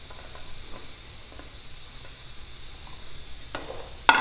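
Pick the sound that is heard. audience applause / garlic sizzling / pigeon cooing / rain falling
garlic sizzling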